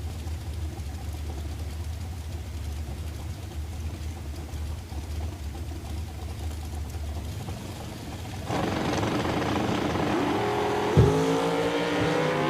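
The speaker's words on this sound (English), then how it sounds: "Amelia Hench's dragster out of Olympia" Drag racing at Woodburn, Oregon: a distant engine hum gives way to a loud, sustained roar as a dragster launches, with a sharp rising burst partway through.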